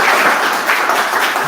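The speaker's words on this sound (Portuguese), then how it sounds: "salva de palmas então para o Matheus." A short burst of audience applause after a talk on mammal conservation, a steady clatter of clapping hands heard alone.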